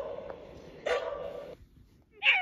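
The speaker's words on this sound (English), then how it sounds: "Yorkshire terrier." A Yorkshire terrier gives a short bark followed by a sustained whining yelp, then a brief quiet gap and one more sharp bark at the end, close and fairly clear.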